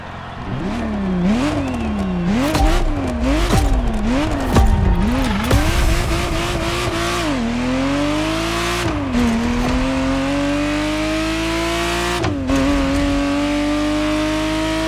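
A Ferrari Testarossa engine in The Crew Motorfest racing game revving up and down through gear shifts, loud and close, with tire squeal and skidding early, then settling into a sustained rising drone between upshifts.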